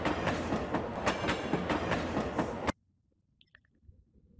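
A train runs on rails with a loud rhythmic clickety-clack of wheels over track joints, then cuts off abruptly to near silence with faint scattered noise.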